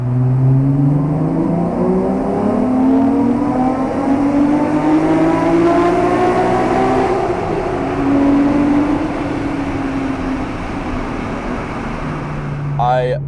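A Honda car engine revs hard through rising and falling high-pitched sweeps, loud and close, then settles to a lower drone before a brief rattle at the end.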